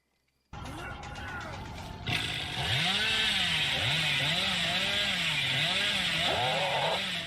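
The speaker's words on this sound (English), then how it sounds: "you were revving your chainsaw so early" In the Dead by Daylight video game, the Hillbilly's chainsaw starts and revs, rising into a loud sustained whine with wavering pitch that keeps climbing and dipping, close and continuous.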